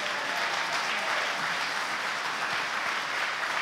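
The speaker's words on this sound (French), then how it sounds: "Je vous demande de l'accompagner à nouveau par vos applaudissements." Sustained audience applause fills a political event hall, a dense, steady wash of clapping at close range with no pauses, briefly building in intensity and never breaking.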